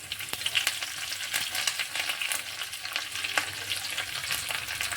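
Curry leaves go into hot oil with garlic in a pressure cooker for fenugreek leaf dal, producing a bright, continuous close crackling sizzle with scattered pops, steady throughout and without voices.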